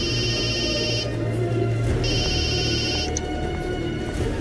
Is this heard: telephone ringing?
yes